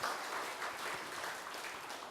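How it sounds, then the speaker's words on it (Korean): An audience at a Buddhist dharma service applauds for two senior monks, a sustained dense patter of many hands clapping at an even, moderate level throughout with no speech. "우리 이 큰 스님 두 분께 박수 한번 보냅시다."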